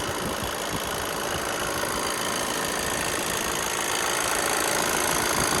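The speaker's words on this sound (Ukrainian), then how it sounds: "Послухайте тільки, як працює двигун." The 2.0 TDI diesel engine of a 2019 Volkswagen Transporter van idles steadily and close by, a continuous low rumble with a faint rhythmic knock, no voices.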